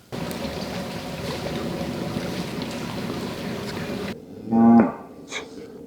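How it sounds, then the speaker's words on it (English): Cattle out on a wilderness trail give one loud, close moo and then a fainter second call, both heard after a long stretch of steady outdoor noise. "I don't know if the cows are happy with us here."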